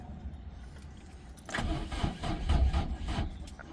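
Small car engine trying to start, starter motor cranking weakly and unevenly for a couple of seconds after a quiet lead-in, close by and without catching cleanly.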